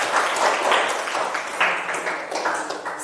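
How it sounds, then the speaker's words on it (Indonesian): Students in a classroom clap for a presenting group, giving a short burst of close, somewhat scattered hand claps that fades and then rises briefly again. "Tepuk tangan buat kelompok"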